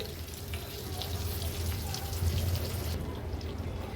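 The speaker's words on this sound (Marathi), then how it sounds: "आता मागची बाजू पण अशीच आपण लो फ्लेमवर व्यवस्थित तळून घेऊया आणखीन 2 मिनिटासाठी" A surmai fish steak frying in a pan over a low flame, giving a steady soft sizzle and bubbling hiss that stays even, then quietens slightly near the end.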